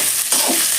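Ivy gourds stirred in hot oil in a pan, a steady close sizzle of frying with brief scraping stir strokes, no voices.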